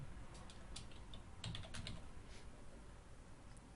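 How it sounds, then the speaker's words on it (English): Someone types a search keyword on a computer keyboard, a quick run of soft, close key clicks in a short burst over a quiet steady background hiss. "Let's just type in life coach."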